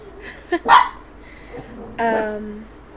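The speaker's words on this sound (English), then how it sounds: "You're barking at birds." A couple of sharp dog barks, one short then a louder, longer one, followed by a muffled woof a moment later, fairly close.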